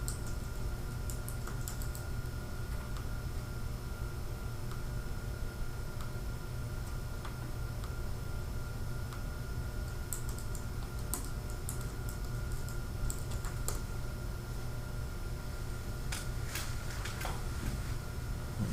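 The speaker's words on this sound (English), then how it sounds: "just go to a web browser right now and just type in forsalebykpete.com" A web address is typed on a computer keyboard: sparse, light key clicks come in short bursts over a constant low background hum, with no voices.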